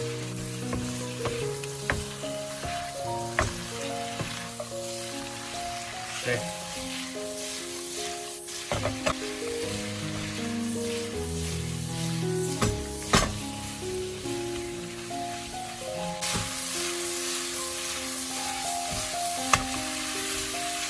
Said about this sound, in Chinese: 接着快速的翻炒均匀，让里面所有的调料均匀的化开